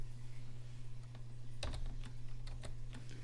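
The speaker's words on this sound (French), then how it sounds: "J'appuie sur la touche majuscule et j'appuie sur R" Shift and R keys pressed on a computer keyboard: a few soft, close key clicks after a quiet start, over a steady low electrical hum.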